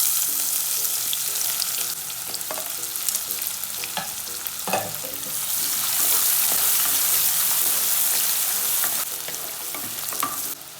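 Onions sizzle steadily in hot oil with cinnamon, cloves and cashews in a pan for a mushroom dish, a dense close frying hiss with occasional stirring scrapes, no voices.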